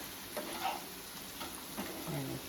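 Crispy chicken liver with pepper powder fries in a pan, giving a continuous, moderately quiet sizzle with a few soft stirring clicks, close up and without speech.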